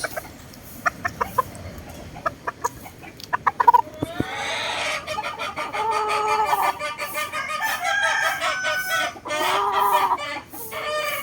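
White Kelso cross roosters give short, sharp clucks at first, then a loud, drawn-out crow and more calling close by.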